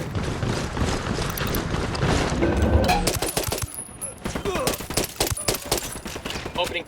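Gunfire in Ghost Recon Wildlands crackles in rapid, overlapping bursts, a dense automatic-weapon fusillade that starts under a rumbling background and turns into sharp, closely spaced shots.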